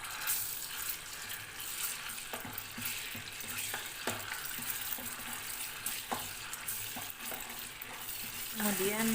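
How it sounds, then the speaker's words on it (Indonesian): Ground spice paste sizzles steadily in about three tablespoons of cooking oil while being stirred, with scattered utensil scrapes and clicks over a continuous close frying hiss. "Tuang minyak goreng kira-kira 3 sendok makan. Kemudian goreng bumbu yang tadi ya."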